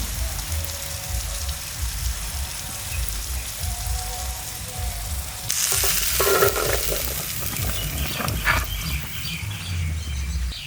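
Pea filling for winter koraishutir kochuri fries in a pan, with steady low sizzling and repeated scraping stirs that grow louder and busier partway through; no voices.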